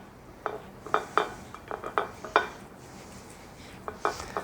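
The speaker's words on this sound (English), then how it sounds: "I'm gonna really generously butter this pie bowl" Butter is spread around a pie pan, giving a series of soft scraping and tapping strokes against the dish, irregular and close, with quiet pauses between bursts.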